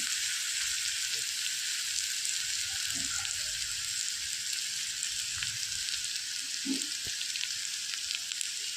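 Dried red chilies and grated coconut frying in a pan, a soft, steady sizzle with a few faint stirring taps, fairly quiet and close.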